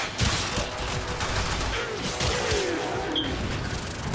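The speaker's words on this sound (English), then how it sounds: "The constant explosions going off in the background" Constant explosions and gunfire in the video game Warframe, a dense continuous barrage of booms and rattling shots with no clear gaps, steady and loud throughout.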